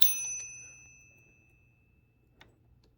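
A Hermes Ambassador typewriter's bell gives a single bright ring at the start and decays over about a second, followed by quiet mechanical clicks.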